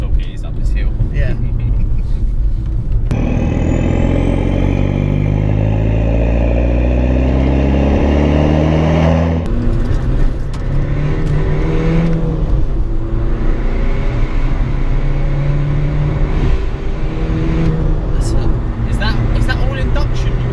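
Exhaust of a diesel Skoda Octavia vRS accelerating uphill, a loud, close engine drone rising steadily in pitch through the gears, with people talking inside the car.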